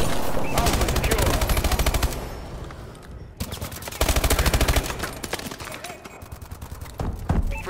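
Rapid machine gun bursts ring out in a first-person shooter match, loud and repeated in long rattling volleys with brief gaps, while clipped game announcer voice lines sit in the background.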